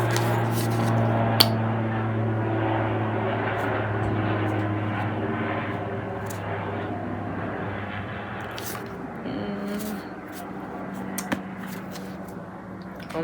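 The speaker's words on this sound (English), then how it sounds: "the plane had to go by." An airplane passes overhead, a sustained engine drone with steady low tones that slowly fades and shifts, with occasional faint clicks and knocks nearby.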